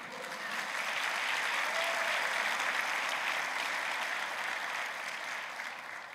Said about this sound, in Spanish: era un aplauso a Cristo.